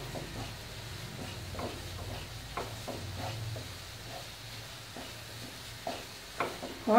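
Cauliflower and brinjal frying in hot oil over a full gas flame, a low steady sizzle with scattered stirring scrapes and clinks of a spoon against the pan, close and fairly quiet, no talking.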